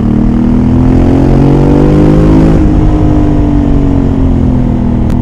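A 2021 Honda Africa Twin motorcycle engine-brakes on a race track as the rider downshifts, its loud, close engine note falling in pitch and then settling into a steady drone.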